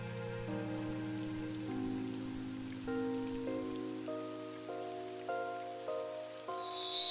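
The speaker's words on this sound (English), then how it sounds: "Uh-oh. It's raining." Steady rain patters throughout a scene in the video game AI: The Somnium Files, a constant hiss beneath soft sustained musical tones, with no voices.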